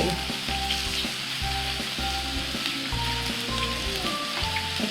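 Pork sizzles and fries on a Thai mookata grill pan, a dense, continuous crackle close by, with intermittent stirring sounds and no speech.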